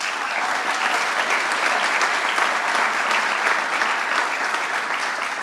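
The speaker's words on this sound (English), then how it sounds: "Can I get a round of applause?" A crowd at the opening of the Western New York Welcome Center applauds Lieutenant Governor Kathy Hochul, a dense, steady round of many hands clapping that holds loud and even from start to finish with no voices over it.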